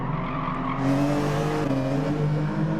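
Race car in Gran Turismo Sport on Blue Moon Infield, N300 touring class, engine drone with tire squeal and skidding as it brakes toward a hairpin, fairly loud and continuous.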